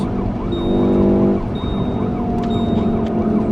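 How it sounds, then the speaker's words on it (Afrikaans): Police car sirens approach during a chase, a loud wailing rise-and-fall over a running vehicle engine, near and sustained. "Die sirenes hoor soos ons aankom."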